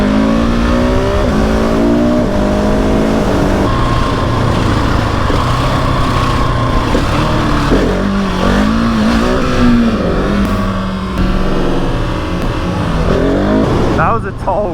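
A Husqvarna 701 SM motorcycle, low on fuel, accelerates hard in first gear into a tall wheelie, its single-cylinder engine revving loudly and climbing in pitch under steady wind noise, with talk over it.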